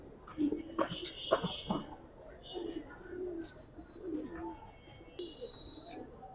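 Pair of Giribaz racing pigeons cooing, several soft, close coos and short calls spread unevenly across the stretch with someone talking in between.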